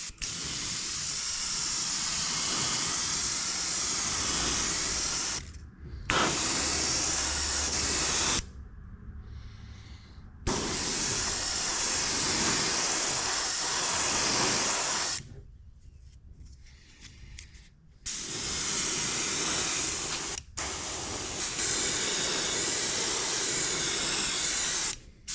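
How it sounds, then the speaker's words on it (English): An airbrush sprays opaque yellow paint onto a musky jerkbait fishing lure in loud, continuous hissing bursts, separated by several short pauses where the air stops, the spray close and steady. "Now we're going to start spraying."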